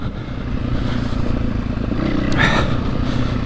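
A Husqvarna 501 FE dirt motorcycle engine runs loud and close with a rough, steady drone, rising briefly as the rear knobby tire spins before settling again.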